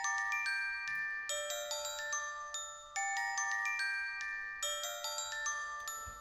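Dry, bright sampled glockenspiel notes from the Mount Flux bank in Kontakt, without effects, play a quick repeating melody, each tone struck and decaying, alone and fairly soft.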